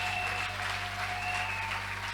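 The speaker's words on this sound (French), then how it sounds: "Applaudissons le Seigneur notre Dieu." Church congregation applauding during a sermon at Sion Tabernacle in Gemena, a steady broadband wash of clapping with a faint sustained tone underneath, no talk over it.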